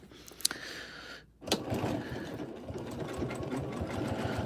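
A Janome M17 sewing machine stitching, starting with a few clicks and a brief pause, then a steady rapid mechanical whirring hum that runs on continuously, close and moderately loud.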